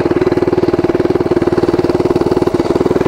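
A mini bike engine fitted with a nitrous oxide kit runs up close and loud, a steady rapid throbbing pulse holding near-constant speed, with a brief dip toward the end.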